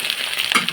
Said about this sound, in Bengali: বন্ধুরা মাছগুলো লাল লাল করে ভেজে নেব।